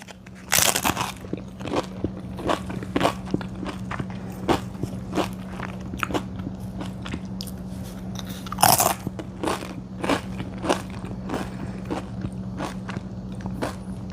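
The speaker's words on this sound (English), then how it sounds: "I know you can hear me crunching and I'm sorry." Someone eats cheesy corn dip off a spoon with crunchy chips, producing sharp, close crunches and steady chewing in a quick irregular rhythm over a faint constant hum.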